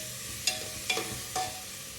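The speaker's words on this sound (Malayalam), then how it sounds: "ഇഞ്ചിയും വെളുത്തുള്ളി പേസ്റ്റ് നമുക്കൊന്ന് ചെറുതായിട്ടൊന്ന് വഴറ്റിയെടുക്കാം" Ginger garlic paste sautéing in a pan, with a close, constant sizzle broken by three evenly spaced scraping stirs of a spoon.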